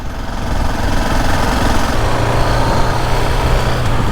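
A KTM 690 Enduro R single-cylinder motorcycle engine drones steadily while riding, loud and close with constant road and wind noise and no talking.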